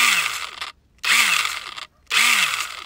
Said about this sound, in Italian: L'oliveto è sicuramente il posto migliore in cui provare questa nuova motosega